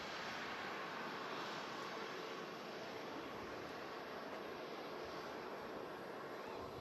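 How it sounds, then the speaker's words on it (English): A Virgin Atlantic Airbus A350 airliner passes at Manchester Airport, its engine roar a steady, broad rumble that holds loud and even throughout with no voices. "There goes the Virgin Atlantic Airbus A350."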